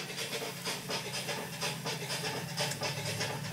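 Brats and onions sizzle on a grill as a steady, dense hiss that stays close and even throughout, with no voices.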